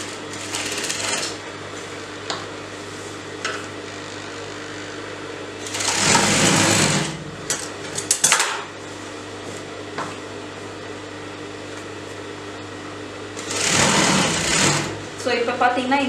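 Sewing machine stitching elastic into a palazzo waistband, with low, steady motor hum and short bursts of fast stitching, three louder runs under occasional talk.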